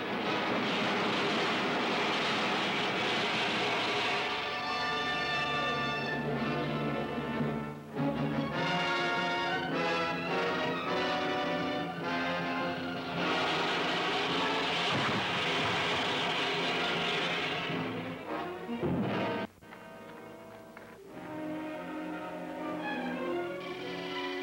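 A spacecraft sound effect from an old science-fiction serial rises as the craft flies in to land. It is a loud, continuous, droning roar with shifting tones, steady throughout with a brief dip near the end, and no voices.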